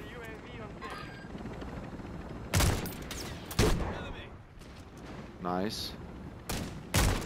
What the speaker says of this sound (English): That's my turret shooting at it.